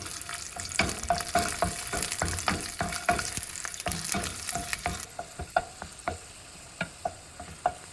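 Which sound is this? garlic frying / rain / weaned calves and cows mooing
garlic frying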